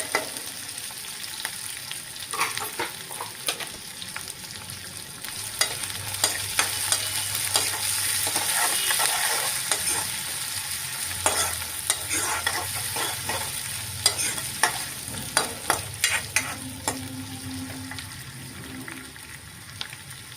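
Chopped onions frying in a pan for tomato curry, with a steady sizzle running throughout and repeated clinks and scrapes of a spoon stirring them, close and moderately loud, no talking.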